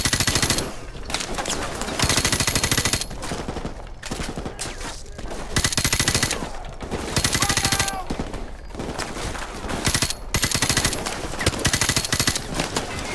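Gunfire in Call of Duty: Modern Warfare Remastered, veteran difficulty: loud automatic bursts come in repeated clusters with short gaps between them, sounding like sustained machine-gun fire, and no one speaks.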